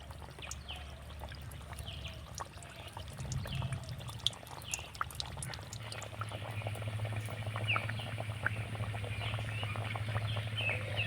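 Mini carrot kachoris bubble and crackle in moderately hot oil, a continuous soft fizzing with scattered small pops and a low hum underneath.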